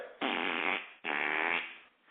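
A man mimics farting with his mouth, producing two long, loud, buzzing bursts separated by a brief pause.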